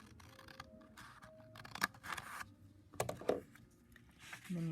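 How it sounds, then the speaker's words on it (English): Scissors make a few separate snips and crunches into folded paper or card stock, close and quiet, with some handling rustle between the cuts. "you'll take your scissors and cut only in to this fold here."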